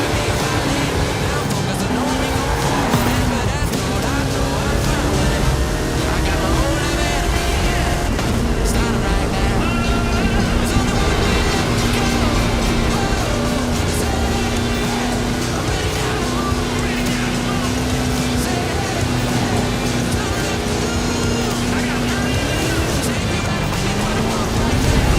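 A Hot Wheels car with a 540 cubic inch Chevrolet engine and 66 inch Terra tires roars continuously in Forza Horizon 5, its loud engine note holding steady and shifting pitch under dense game noise.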